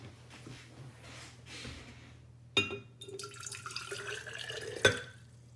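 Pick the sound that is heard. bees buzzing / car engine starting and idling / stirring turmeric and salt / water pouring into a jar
water pouring into a jar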